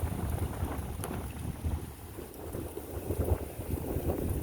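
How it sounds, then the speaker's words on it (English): Strong wind buffets a microphone outdoors in a forest, a loud, constant rumbling roar with gusty swells and no voices. "Man, that wind's bad."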